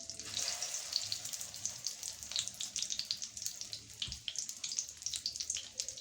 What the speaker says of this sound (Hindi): जो कबाब बचे हुए हैं उनको फ्राई कर लेंगे